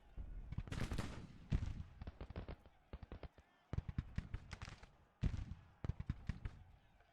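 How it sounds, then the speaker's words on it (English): Artillery bombardment from three batteries in the video game GTCW: a dense run of sharp, booming reports fires in quick irregular bursts, some overlapping, with brief gaps between volleys, fairly loud and near. "Alright, 3 batteries all firing at this big old clump."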